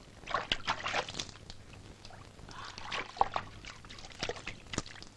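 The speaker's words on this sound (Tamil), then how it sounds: "தண்ணி ஊத்து" Water poured out for cattle in a rural Tamil village setting, a loose irregular splashing and trickling close by, broken by brief sharp knocks, with no talk over it.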